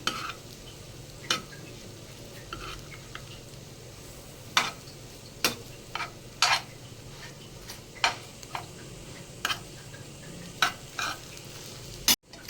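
Bread slices roast in hot oil in a pan as part of a vegetable biryani, with a soft continuous sizzle and regular sharp taps of a spatula against the pan.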